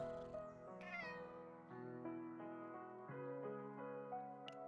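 Cats in the game Chaos Zero Nightmare give a run of close, clear meows with drawn-out, tonal cries in a row, and no voices over them.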